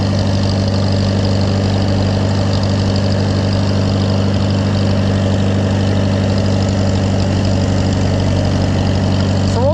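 An Allis Chalmers WD tractor engine idles steadily with a low, even chugging drone that stays loud and constant from start to finish, with no talking over it.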